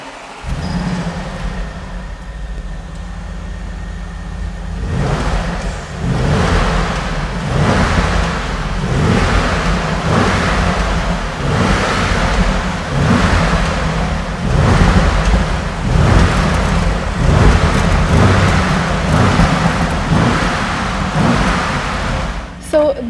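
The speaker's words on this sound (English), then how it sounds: "let's actually listen to the sound of this engine on this Porsche Cayenne S Coupe" A 2025 Porsche Cayenne S Coupe with a Larte Design bodykit fires up, its engine settling into a loud, steady rumble heard outdoors with wind buffeting the microphone throughout.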